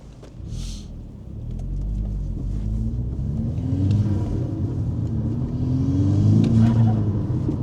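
VW Scirocco R with Milltek exhaust valves closed, engine running and revving: a low, fairly quiet rumble that rises and falls in pitch, dominated by intake noise and building toward the end.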